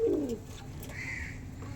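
Pet pigeons make a single soft coo near the start, faint against a quiet background; a few faint chirps follow.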